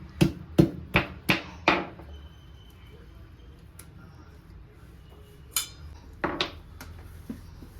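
Turmeric and hard herbal roots pounded to crush them, a close series of five sharp thuds in quick rhythm, a pause, then a few more scattered knocks and taps.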